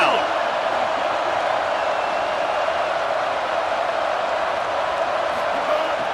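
A home crowd in EA Sports College Football roars steadily and loudly throughout, a dense, continuous wash of cheering from a stadium during a third-down defensive stand.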